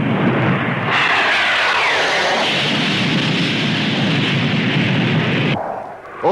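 Royal Navy low-level attack jet aircraft passing overhead at the Farnborough air show in the 1950s, a loud, sustained roaring jet rush swelling in over about five seconds and then cutting away abruptly, with no talk.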